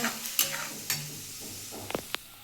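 A spatula scrapes and knocks around a pan while stirring thick banana stem paste, a few distinct clacks and soft scraping strokes over a low background hiss.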